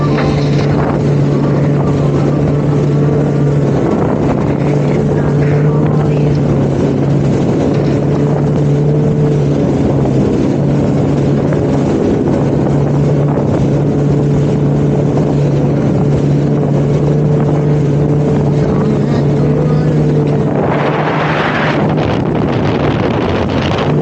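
Jet skis ride out through fog on open water, a loud, droning engine hum holding steady close by, with wind buffeting the microphone throughout and a brief surge of spray near the end.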